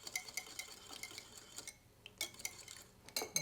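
Egg yolk being mixed in a bowl for a light baked cheesecake, with a utensil clinking and scraping irregularly against the bowl in short, light taps, fairly close and quiet, with no voices.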